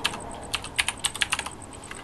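Fingers tap out a quick run of keystrokes on a computer keyboard, crisp clicks coming in an uneven burst, close and moderately quiet with a faint background hum.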